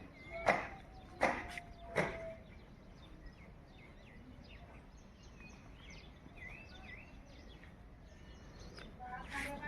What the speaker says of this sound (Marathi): सकाळची सुंदर अशी आपण पहाट पाहतोय आणि सोबत पक्ष्यांचे आवाज देखील आपल्याला कानी पडत आहेत